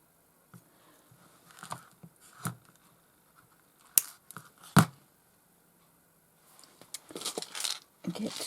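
Beading thread for a tassel charm snipped with scissors, a few sharp isolated clicks and snips close up in a quiet room, with scattered small handling noises between them.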